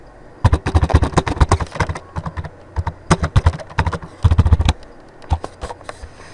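Rapid bursts of keystrokes on a computer keyboard, close and crisp, coming in uneven clusters with brief pauses between runs of typing; no voices.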